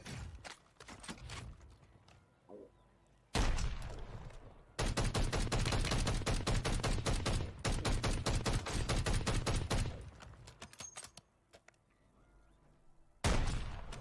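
Rapid bursts of gunfire from a sniper rifle in a shooter video game, loud and close, in several dense volleys separated by short quiet gaps.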